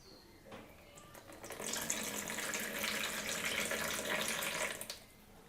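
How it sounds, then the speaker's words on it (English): Milk poured into pancake batter in a home kitchen: a steady liquid stream starts after a soft clatter and runs continuously for about three seconds before stopping, close and fairly loud, with no talking. "Okay, so I'm going to add in some milk."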